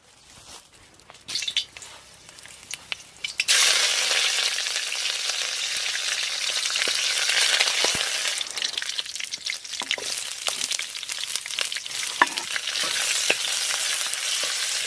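Garam masala spices hit a hot pan and crackle loudly, a sudden burst of sizzling after a quiet start that keeps on steadily with small clinks and stirring.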